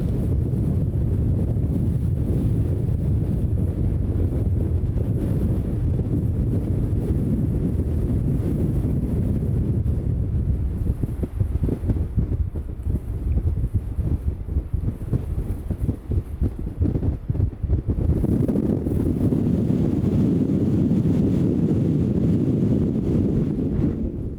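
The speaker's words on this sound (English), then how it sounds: "let the wind-powered rocking of the van lull us to sleep" Strong, continuous wind roaring and buffeting the microphone around a parked van on a cliff in a Peruvian desert, heavy low rumble throughout with a brief easing in the middle before gusting back up.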